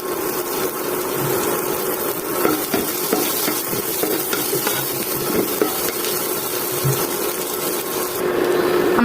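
Chopped onions frying in hot oil in a wok give a loud, steady, close hiss that runs without a break, with no talk over it.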